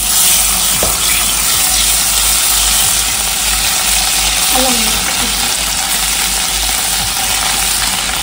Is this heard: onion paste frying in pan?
yes